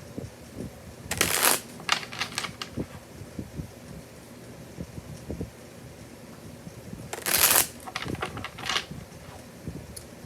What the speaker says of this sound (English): Let's see what the tarot has. And I am using Influence of the Angels Tarot. I'll pull 3 cards.